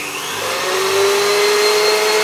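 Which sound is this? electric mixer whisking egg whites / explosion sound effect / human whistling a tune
electric mixer whisking egg whites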